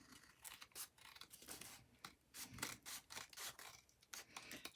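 Scissors snip and rasp through a sheet of book page being trimmed for a journal corner pocket, a quick run of close, crisp cuts with short pauses between strokes, alone with no talk.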